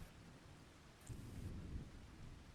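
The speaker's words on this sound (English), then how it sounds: "It is thundering." Low, faint thunder rumbles under steady rain in Farming Simulator 2025 as a storm rolls in, swelling briefly midway and then fading.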